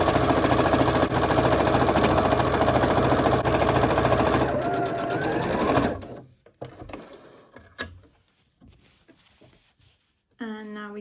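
A sewing machine stitches a scrunchie seam, forward and back, in a loud, steady, rapid mechanical whir for about six seconds. It then stops and short clicks and handling follow, with a voice speaking briefly.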